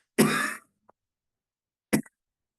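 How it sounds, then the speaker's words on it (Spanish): One short forceful cough comes after a quick small breath, demonstrated during a first-aid lesson. A second, briefer throat sound follows about a second later, close and isolated in an otherwise silent room. "Tomen aire cortito, un poquito de aire, y ahí tosa fuerte."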